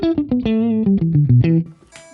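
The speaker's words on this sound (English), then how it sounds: "Very dark sounding guitar tones." A dark, clean Stratocaster tone run through a Line 6 Helix, with little low-end spank, plays a short descending run of distinct plucked notes that ring warmly and close, alone with no talking.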